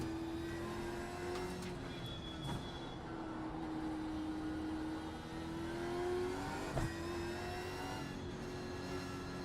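A Gen3 Supercars race car at Oran Park passing beneath a bridge, its engine a sustained whine rising and falling from a distance, with a few brief knocks and no talking.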